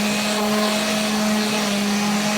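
An electric sander distressing the edges of a wooden door, a loud, steady close-up whine with a constant motor hum and gritty abrasive hiss running without a break.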